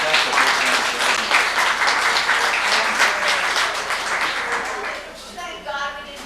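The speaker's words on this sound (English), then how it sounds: "I think you ought to applaud each other for making the long trek to Santa Fe" A family reunion crowd in Santa Fe, New Mexico applauds one another, making sustained, dense clapping from many hands that stays close and loud, then thins and fades toward the end as voices start to come through.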